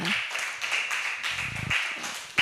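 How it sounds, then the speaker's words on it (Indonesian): A classroom of students claps together in dense, continuous applause that stays steady and fairly loud for a couple of seconds. "Tepuk tangan sekali lagi, ayo."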